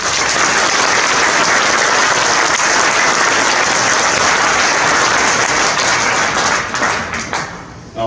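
A dense, loud wall of audience applause fills a hall at a twentieth-anniversary celebration of a French community of communes, holding steady and then thinning out and fading in the last second.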